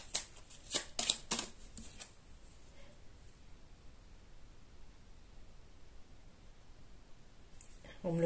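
Tarot cards are shuffled in quick bursts of riffling and snapping near the start, then fall quiet over faint hiss, with a brief louder rustle at the end.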